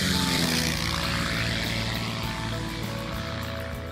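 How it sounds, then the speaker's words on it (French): A Navion light propeller airplane, a design from 1946, drones steadily and loudly with a pulsing engine and propeller hum that fades slightly over the clip, alone without voices. "Cet avion a marqué un tournant dans l'histoire de l'aviation légère."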